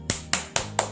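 Four sharp, evenly spaced claps or snaps, close and crisp, over a faint steady tone from an 8 Ball Pool game.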